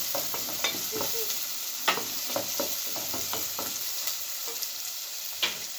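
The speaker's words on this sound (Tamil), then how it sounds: "வெங்காயம் வெள்ளைப்பூடு நல்லா வதங்கட்டும்." A steady sizzle of onion and garlic frying in a pan, broken by repeated scraping and stirring knocks, close by with no talking.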